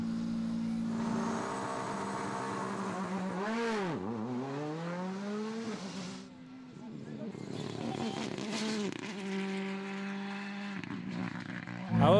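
A Ford Fiesta R5 rally car drives at a round of a rally championship in Ypres. Its engine revs rise and fall repeatedly with gear changes, loud and steady from inside, and a voice speaks over the engine.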